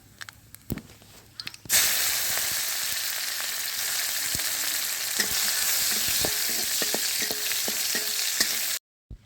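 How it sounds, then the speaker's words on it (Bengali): Dried red chillies, mustard seeds and crushed garlic hit hot oil for a tempering, giving a loud, steady sizzle with scattered sharp pops and crackles that runs for several seconds after a quieter start, then cuts off abruptly. "তেল গরম হয়ে গেছে, আমি ফোড়নে দেব শুকনো লঙ্কা, কটা সর্ষে আর কটা থেতো করা রসুন।"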